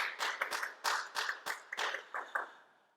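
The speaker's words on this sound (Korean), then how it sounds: "우리 하나님께 영광의 박수 돌리겠습니다." A small worship-service congregation claps in a short burst of separate, fairly sparse handclaps, the sound thinning out and fading toward the end.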